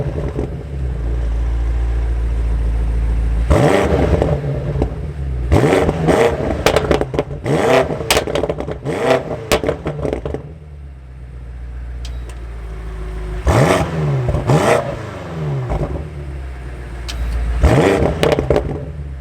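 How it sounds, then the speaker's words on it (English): A 2021 BMW M5 Competition fires up with a loud starter catch and roar, settles into a deep idle, then gets several sharp revving blips close by, with quieter idling between bursts. "now inside the M5, if I keep my foot on the brake, we can go ahead and fire it up."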